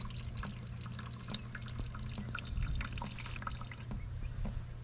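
Water is poured back into a container while testing a leak-repair product, giving a steady low pour with scattered drips and splashes, quiet and close throughout.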